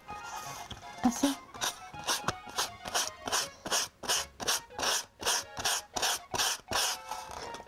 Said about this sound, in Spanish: Y así como estoy lijando aquí,